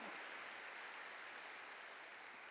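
A church congregation claps during a sermon, giving glory to God. The applause is a brief, even, dense wash of hands that sounds faint and distant, with no speech over it.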